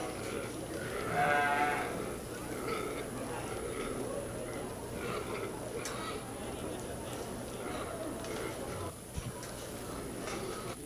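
Sheep bleat in a county fair livestock showmanship arena, one clear bleat early on and fainter calls afterward, beneath a public-address announcer and steady crowd noise.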